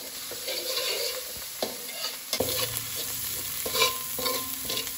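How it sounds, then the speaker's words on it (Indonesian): A spice paste fries in a pan before coconut milk goes in, with a continuous bright sizzle broken by scraping stirs of a utensil, and no voices. "Digoreng bumbunya agar itu wangi sebelum dikasih santan"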